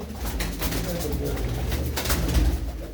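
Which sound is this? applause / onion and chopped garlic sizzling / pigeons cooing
pigeons cooing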